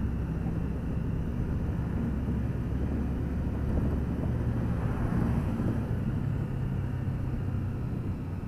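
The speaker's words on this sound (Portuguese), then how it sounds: "Tá ventando pra caramba, mano." Steady, strong wind roaring and buffeting the microphone throughout, a constant low rumble with no pauses.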